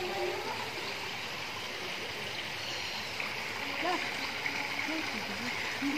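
Water flows steadily at a pond stocked with fish in Himachal, a continuous soft rush with faint splashes, while people talk in the background.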